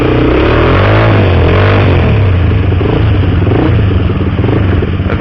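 A Honda CBX 250 Twister motorcycle with a modified, gutted exhaust pipe revs loudly up close, its engine note rising and falling in repeated throttle blips with a raspy, clattering roar.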